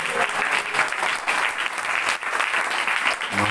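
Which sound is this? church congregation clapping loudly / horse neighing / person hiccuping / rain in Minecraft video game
church congregation clapping loudly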